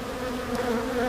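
Honeybees from a swarm housed in a swarm trap hum with a steady, close, dense buzz that holds evenly for about a second with no other sounds.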